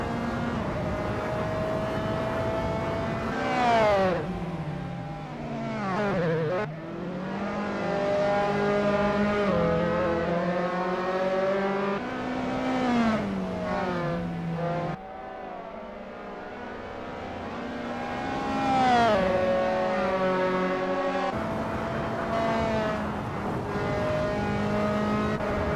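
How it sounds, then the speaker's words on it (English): Dallara F317 race cars race at Tor Poznań in Assetto Corsa, loud screaming engines revving up and dropping through shifts, several cars overlapping in a continuous howl with no voices. "It's a lovely day for racing here at Tour Poznań, as we watch these drivers warm up and get ready for the race."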